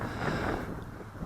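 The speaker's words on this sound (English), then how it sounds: "As you can see, it's somewhat windy." Wind gusts at Picacho Peak, Arizona, a dense roar buffeting the microphone, loud and steady for the whole moment with no voices.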